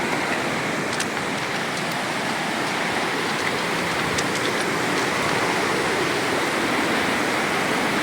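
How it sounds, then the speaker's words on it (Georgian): Meltwater of the Enguri River pouring out from the base of the Skhara glacier in Georgia, a steady, broadband rushing roar, close and unbroken. "აქ გამოედინება მდინარე ენგური მყინვარის ძირიდან."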